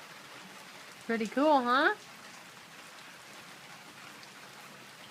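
Steady rain falls outdoors after a long drought, a soft even hiss that continues throughout, with a short spoken remark near the start.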